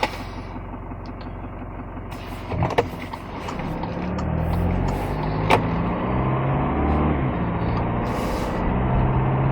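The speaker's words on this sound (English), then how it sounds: "I'm just going for a drive in the Fortuner, so let's go." Toyota Fortuner Crusade SUV from 2023 driving, with a steady low engine and road drone throughout, a couple of brief knocks or clunks, and the cabin noise building slightly after a few seconds.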